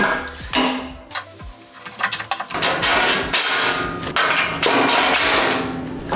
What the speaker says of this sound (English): Pop some rivy nuts in here.